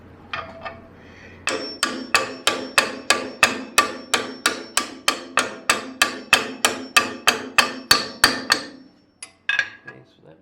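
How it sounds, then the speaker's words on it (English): A hammer taps an aluminum rod into a steel jointer during reassembly, about twenty sharp, ringing metallic strikes in a steady, even rhythm, close and loud, ending with a couple of lighter knocks. "I'm going to tap that in with the hammer here."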